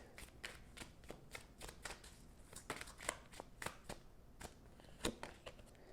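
Cards being shuffled for an oracle card reading, a quick run of crisp riffling snaps in repeated bursts, close and fairly quiet with no talking.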